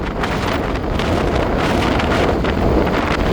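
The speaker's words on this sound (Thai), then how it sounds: "คือลมเย็นนะครับพี่น้อง" Cool wind blows hard into the microphone at an outdoor roadside eatery inside an industrial estate around midday. It makes a loud, constant, buffeting roar that fills the whole stretch with no pauses, and nobody speaks.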